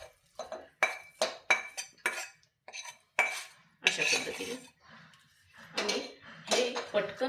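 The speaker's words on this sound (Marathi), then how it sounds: "हे मिश्रण लगोलग आपल्याला या थाळीमध्ये घालून घ्यायचं आहे" A hot bajra, sesame and jaggery mixture is scraped from a pan into a greased plate, making a fast series of loud metal clinks and scrapes that turn into longer, rougher scraping toward the end. A voice speaks faintly underneath.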